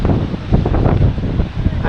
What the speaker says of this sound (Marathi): आता वारा आलेला आहे